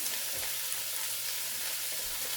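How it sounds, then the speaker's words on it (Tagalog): Frozen green beans fry and hiss in a pan as they are stirred, a faint, steady sizzle with light scraping and no talking. "Haluan ko ng green beans. Kaya lang frozen."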